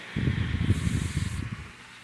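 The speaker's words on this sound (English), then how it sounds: "there's steam. There's plenty of it. This is 50 psi of steam." A Dupray Neat steam cleaner working on carpet and an area rug at 50 psi, releasing a continuous close, forceful hiss of steam with a rough, fluttering texture for about two seconds before it fades out.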